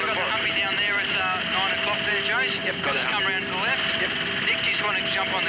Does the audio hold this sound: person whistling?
no